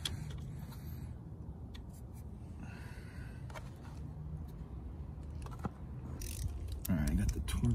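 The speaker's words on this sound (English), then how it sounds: "Snug it up here with the end wrench." An end wrench snugs up a bolt on a 2019 Honda CB500X motorcycle during its first 600-mile service, giving faint metallic ratcheting clicks and scrapes over steady background noise.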